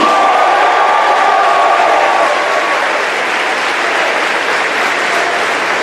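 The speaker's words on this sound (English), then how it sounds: "Let's give Kevin another round of applause." A large crowd at a college athletics awards ceremony applauds and cheers, a dense, loud, continuous roar of clapping with whoops mixed in, steady from start to finish.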